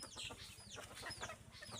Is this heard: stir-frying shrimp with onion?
no